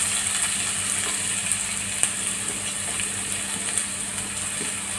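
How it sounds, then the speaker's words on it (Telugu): Onions hit hot oil and fry with a constant bright hiss, dotted with small pops and crackles at close range. "ఆయిల్ హీట్ అయ్యాక ఆనియన్స్ వేసి ఫ్రై చేయాలి."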